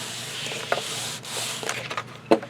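Glued paper hinge binding being burnished, giving a soft, continuous close rubbing with a couple of sharp little taps.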